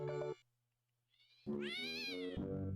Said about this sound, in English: Yes, that is a cat.